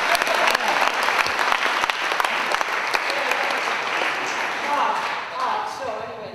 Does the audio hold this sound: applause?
yes